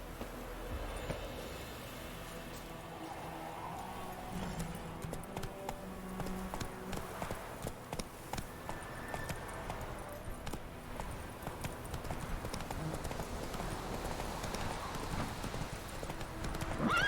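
Horse hooves clip-clop over rocky ground in The Witcher 3 video game, an uneven run of hoofbeats with a brief whinny and background game ambience.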